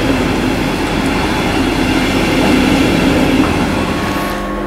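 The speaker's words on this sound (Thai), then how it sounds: "เดี๋ยวเราจะขึ้นรถไฟแบบนี้เลยเข้าเมืองกัน" A train heading into Berlin rumbles and rattles steadily, loud and close, with a constant low roar and faint wheel clatter throughout.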